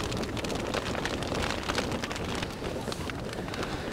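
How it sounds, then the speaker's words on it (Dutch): Snow and hail falling during a storm high on K2 mountain, a dense, steady hiss and patter of icy particles with wind noise, loud and continuous throughout with no pause. "Ja, de wind valt op zich nog wel mee, maar het sneeuwt en het hagelt."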